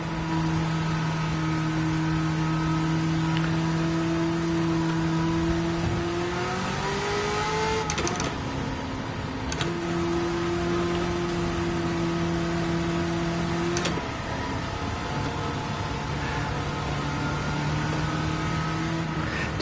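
A steady car engine drone in the racing game Gran Turismo 7, with sustained tonal pitch, shifting and rising briefly as revs change, continuous and fairly loud throughout, with no talking.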